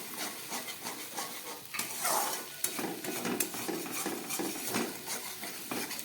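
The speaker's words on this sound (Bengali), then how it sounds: "আবার একটু ভেজে নিচ্ছি।" Cashew paste and a sour ingredient fry in oil for a paneer curry, a soft background sizzle broken by scraping stirs and clinks of a spoon against the pan, fairly faint and without talk.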